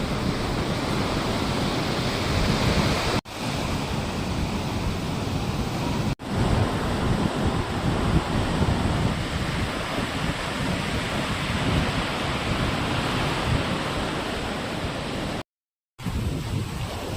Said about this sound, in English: Another amazing beach on that island.